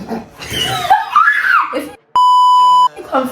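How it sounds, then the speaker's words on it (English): A steady pure-tone censor beep lasting under a second cuts into animated girls' chatter and laughter, loud and alone while it plays, with talk resuming right after it. "I'm not being paranoid, I've beeped it now."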